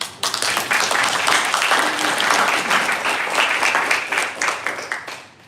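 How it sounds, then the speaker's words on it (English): Audience applause after a talk at JBird Coffee, steady dense clapping from many hands that fades slightly toward the end, with a few faint voices underneath. "Give him another round of applause."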